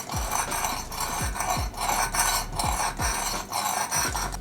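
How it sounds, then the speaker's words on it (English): Knife blade drawn repeatedly across the abrasive of a Work Sharp Precision Adjust Elite sharpener at about a 20-degree angle, a steady close raspy grinding with regular stroke pulses roughly every half second. "Probably gonna sharpen this at about a 20-degree angle."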